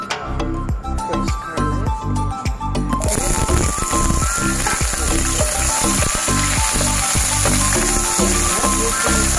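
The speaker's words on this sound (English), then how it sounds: "I'm adding cooking oil, half a spoon of cooking oil, and then our garlic, red onion," Garlic and red onion hitting half a spoon of hot cooking oil, with clattering stirring at first and then a loud, steady sizzle of frying that carries on unbroken.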